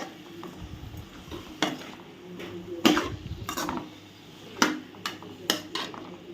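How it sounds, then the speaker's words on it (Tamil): Brinjal sautéing in oil in a pan for a brinjal and chickpea tamarind curry, with intermittent scraping and clinking strokes of a spoon against the pan over a soft, quiet background. "அதனால் எண்ணெய் படுற மாதிரி இந்த கத்திரிக்காய் எல்லாத்தையுமே நல்லா வதக்கி விட்ருங்க"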